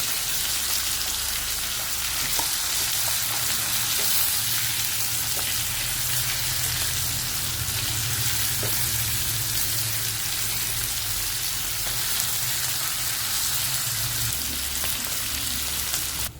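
Spiced fish fries in a hot pan with a dense, continuous sizzle that stays even and close for the whole stretch, with no voices.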